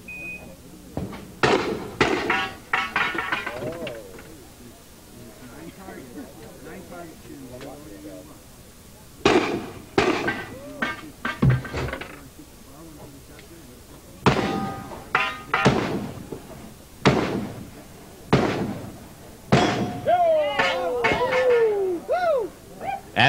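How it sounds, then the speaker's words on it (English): Black powder guns fire at targets at a cowboy-style shooting show, a string of sharp, loud blasts in quick bursts separated by short pauses, with a voice commentating in between. "This guy's shooting black powder."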